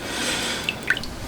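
Water rinsing over a freshly cast cylinder head for a 125cc four-cylinder 16-valve engine, a steady soft wash of spray with a couple of distinct drips near the end.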